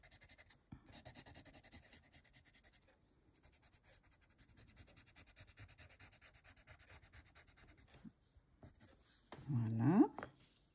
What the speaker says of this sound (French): on va un petit peu mélanger avec le blender